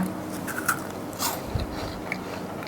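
A crunchy butter chocolate chip cookie being bitten, with a couple of loud, close crisp crunches and crackles in quick succession and no talking.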